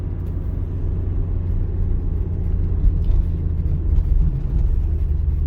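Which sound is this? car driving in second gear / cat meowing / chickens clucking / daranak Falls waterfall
car driving in second gear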